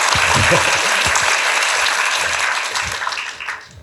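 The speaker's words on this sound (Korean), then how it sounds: "박수 부탁드립니다" An indoor cinema audience at a film talk event applauds steadily with dense clapping that fades out toward the end.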